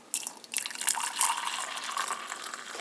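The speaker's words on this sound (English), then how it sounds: "pour in the water" Water poured from a tap or kettle into a cup of decaf coffee mix while making a decaf mocha, a steady close splashing trickle starting abruptly and running continuously without talk.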